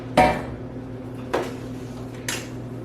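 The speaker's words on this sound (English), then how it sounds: "And then I'm going to add the sugar. And we're going to stir this all up" Strawberry jam with lemon juice and sugar being stirred in a pot, heard as three separate metallic clanks and scrapes of a utensil against the pot, close and sharp, with quiet pauses between them.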